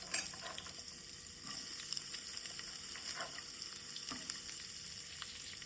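Chopped onion dropped into a hot mustard-seed and curry-leaf tempering for jackfruit bhaji, a soft crackling sizzle with scattered pops and light stirring, steady and close.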